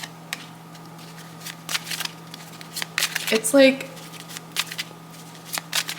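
Tarot cards being shuffled in a reading, a run of soft quick riffles and flicks repeating through the clip under a speaking voice.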